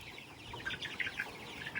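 Young chickens cluck softly outdoors on grass, a quick run of small, close chirping clucks repeating in an uneven rhythm, fairly quiet and with no talk.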